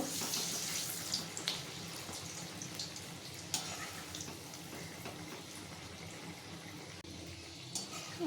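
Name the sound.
jackfruit fritters frying in oil on medium flame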